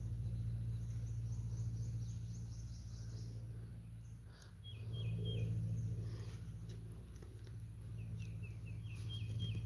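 A bird at a freshwater fishing spot gives repeated quick chirping trills, fairly faint, over a low outdoor rumble and insect hum.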